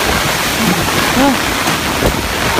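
Strong typhoon wind and rain from Typhoon Odette, a dense continuous roar of gusting wind and rain buffeting the microphone, loud and close, with a faint voice briefly audible underneath.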